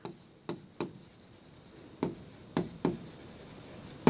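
Marker or chalk writing on a board during a Class 9 physics lesson on motion: a run of sharp strokes and taps spread over about four seconds, close and fairly loud, with no talking.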